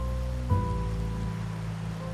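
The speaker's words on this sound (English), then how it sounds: "Rain's back." Steady rain hiss from a video game story mission set on a rainy night, continuous and fairly loud throughout, layered under sustained low tonal drones with a soft thud near the start; no talking.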